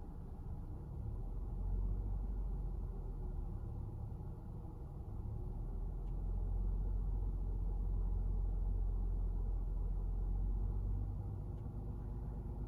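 Car engine held steady at 1,000 RPM during a mass airflow and fuel trim diagnostic test, giving a low, even rumble that stays constant and close throughout, with no talk.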